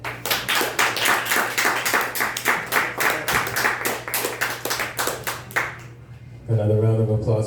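A small coffee-house audience claps after a live music set, a loud run of distinct rhythmic hand claps that stops abruptly, followed by a short burst of another sound at the end.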